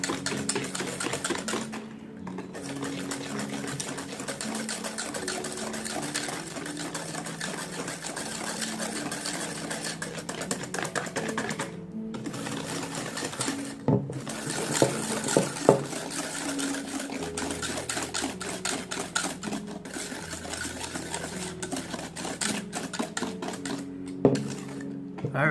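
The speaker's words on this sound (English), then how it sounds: "you can use a hand mixer or a stand mixer, but the wire whisk will do" A wire whisk beats meringue by hand in a bowl, a fast, continuous metallic clatter and scrape with a few brief pauses, fairly close and steady over about twenty-five seconds.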